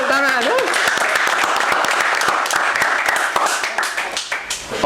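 Teachers from SMA Negeri 76 Jakarta receive a round of applause at a Teachers' Day event, crisp, close clapping from a group that thins out toward the end, with a voice briefly heard at the start.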